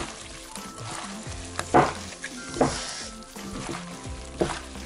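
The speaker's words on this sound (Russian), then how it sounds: "нам нужно хорошенько вот так вот все это перемешать." Moist cucumber salad is tossed and stirred in a bowl, with soft squelching sweeps and a few sharper clinks of the utensil.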